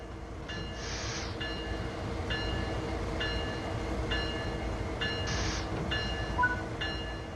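A simulated freight train in Train Sim World 3 sits with its brakes released, a steady low rumble under repeated short hissing air bursts and faint tonal beeps.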